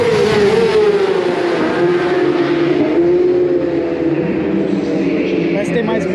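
Racing motorcycles at the SuperBike Brasil round at Interlagos race past one after another, a loud continuous engine roar with a high whining tone that sweeps gradually as the bikes go by, close to the track.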